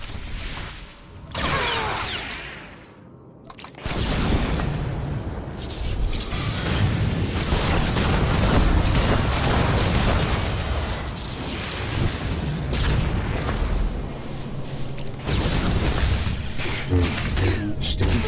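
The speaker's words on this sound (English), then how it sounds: "Grenade." A grenade goes off in the video game Star Wars The Old Republic, a loud booming blast followed by a long rumbling, crackling stretch of combat noise, with a brief quieter gap before the boom.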